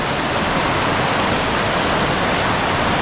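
Flooded creek water rushes in a steady, dense roar, loud and unbroken throughout, swollen and running fast close by.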